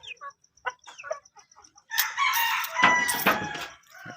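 White Kelso gamefowl cluck in short scattered bursts, then a rooster lets out a loud, long crow at close range.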